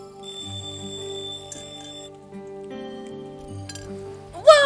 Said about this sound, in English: Wake up and stop the alarm! I can't stop it, it's been ringing for ages!